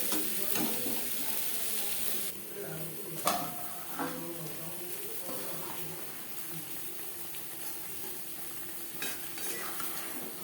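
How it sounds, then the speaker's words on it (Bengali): Potatoes frying with salt and turmeric in a home kitchen pan, a soft continuous sizzle with occasional scraping stirs and utensil clinks, low in level and fairly close, with faint speech. "লবণ হলুদ দিয়ে আলু ভেজে নেব।"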